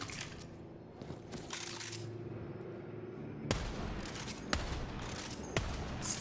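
Gunfire with heavy recoil in the fantasy shooter Tiny Tina's Wonderlands: a few sharp shots ring out over a steady game background, with sparse metallic clinks.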